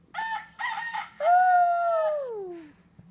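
A young girl imitates a rooster crowing, giving a few short rising calls followed by a long, high drawn-out cry that falls away at the end, close and clear with no talking.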